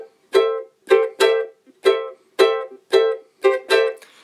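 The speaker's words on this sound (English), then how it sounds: "we have those groupings of double downstrokes over top of consecutive eighth notes" Ukulele strums a cavaquinho-style samba rhythm of paired quick downstrokes on consecutive eighth notes, close and bright, eight strokes in clustered twos with small rests and no talking.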